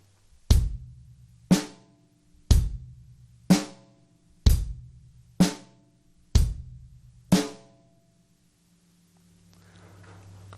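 Eight evenly spaced drum hits ring out at a steady moderate pulse, each a deep thump with a short decay, then silence.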